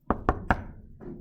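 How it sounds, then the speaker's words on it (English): Three quick, evenly spaced knocks tapped out as Morse code dots, crisp and close, followed by a fainter soft thud. "So if you ever get in trouble, just tap it out."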